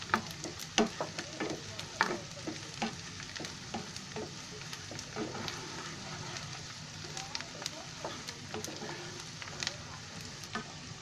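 Onion, green chili, ginger and garlic fry in hot oil with a constant crackling sizzle. Frequent clinks and scrapes of a spoon stirring the pan run through it, with faint background noise.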